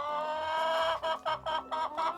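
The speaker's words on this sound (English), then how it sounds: "one particularly cantankerous chicken starts squawking" An agitated farm chicken squawks and clucks in a rapid run of four or five loud, close calls with no talk over them.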